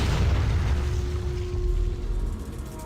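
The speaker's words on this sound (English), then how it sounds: "Here's shells coming in." Incoming artillery shells exploding in a siege battle video game, a deep rumbling boom that rolls on heavily and slowly fades, loud and low with no talk over it.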